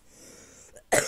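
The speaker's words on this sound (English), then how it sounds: "Cough attack." Quiet room hiss, then one sudden harsh cough, close and loud, near the end.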